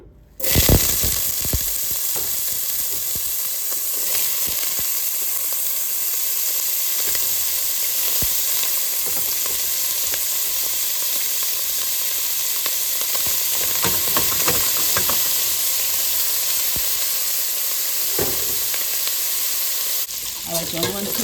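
Meat browning in a little oil in a soup pot for bean soup, a steady close sizzle and crackle with occasional stirring scrapes, continuous and fairly loud with no talking.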